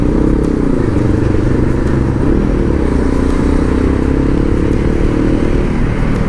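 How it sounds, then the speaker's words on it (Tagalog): A motorcycle engine running smoothly during a short ride, giving a loud, steady low drone with a faint rise in pitch, mixed with continuous road and wind rumble. "Mas smooth na makina talaga."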